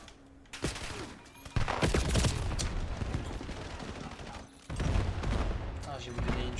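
Video game gunfire from Call of Duty 7 during a multiplayer match, with loud bursts of automatic fire and shots layered under excited talk, the volume jumping as new bursts begin.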